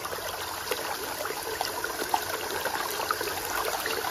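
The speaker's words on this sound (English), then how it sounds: "When the pump is with the sufficient water inflow, and it is powered by the matching DC power supply, its work performance is like this." A SHYSKY DC60G-24120S 24V DC water pump running with a full water supply gives a quiet, steady, continuous wash of flowing water, with no distinct mechanical rhythm and no talking.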